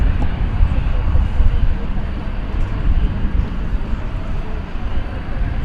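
A loud, steady broadband roar from an American airliner taking off on runway 18 left at Dallas-Fort Worth Airport at night, continuous and unbroken.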